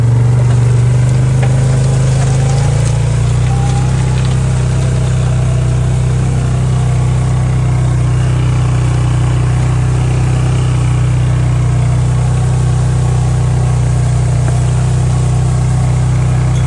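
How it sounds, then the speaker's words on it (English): A Polaris four-wheeler drags a load across a field, its engine holding a steady mid-pitched drone with a strong low hum for the whole stretch, loud and close, with no voices. "I just figured dragging it with the four-wheeler would be a lot faster than trying to move it by hand"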